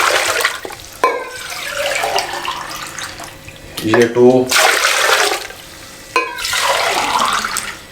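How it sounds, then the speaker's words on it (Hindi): Water poured from a one-kilogram mug into a pressure cooker holding two kilograms of mutton for Peshawari namkeen gosht, three splashing pours in bursts with rising gurgles, close by, under a man's speech. "ये 3 किलो पानी शामिल करते हैं।"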